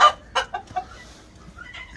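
An Isabel Ligorin rooster gives a few short, sharp clucks close by, followed by quieter faint calls in the background.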